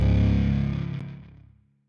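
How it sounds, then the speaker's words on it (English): A thick, saturated guitar chord through a Fender fuzz-style distortion pedal rings out loudly and slowly decays to silence. "fuzz-style distortion effect"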